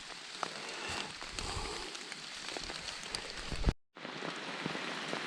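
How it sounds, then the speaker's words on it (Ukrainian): Steady rain patters on a surface with scattered distinct drops, a soft continuous hiss that briefly cuts out before resuming. "Дощ паде, не перестає"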